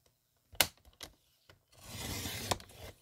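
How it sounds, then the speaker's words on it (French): A paper trimmer blade with a worn, dulling edge slices through paper, giving a few short scraping strokes followed by a longer, louder rasping cut, close and alone. "je crois que ma lame de massicot commence à être"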